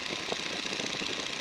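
A 1942 Boeing N2S-2 Stearman biplane's radial engine throttled back to about 1,750 RPM, a steady, dense, loud drone filling the cockpit with no pauses.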